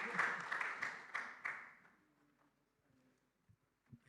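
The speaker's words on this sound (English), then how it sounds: "Please give a big round of applause for Emmanuel's talk" Brief, moderate applause from an audience at a technology summit talk, a few clustered claps that fade quickly into near silence with faint stray sounds.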